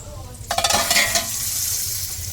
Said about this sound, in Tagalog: Magigisa na tayo.